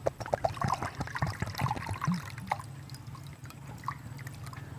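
Water poured into a cooking pot (handi) on a wood-fired village stove for boiling rice, a close splashing pour with trickles and drips that fades to a soft dribble.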